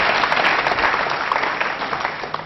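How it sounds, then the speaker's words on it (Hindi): Studio quiz show audience breaks into loud, dense applause, a continuous close wash of clapping that holds steady for a couple of seconds and eases slightly at the end. "तालियां फिर भी बजती चाहिए दोनों के लिए"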